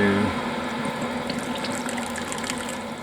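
Homebrew wort slowed to a steady trickle while recirculating during a brew day for a Citra and Motueka session white IPA, a continuous close splashing flow with a brief pump hum at the start.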